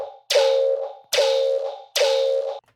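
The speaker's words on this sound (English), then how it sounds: "I just add the frequency shifter, drag the fine up all the way to 500 hertz, and then afterwards I added an OTT and a saturator." A synth bass shot pitched up 500 Hz with a frequency shifter, then run through OTT and a saturator. Three bright, gritty, distorted hits sound in even succession, loud and alone.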